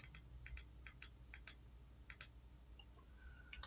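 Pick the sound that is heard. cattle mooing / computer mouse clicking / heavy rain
computer mouse clicking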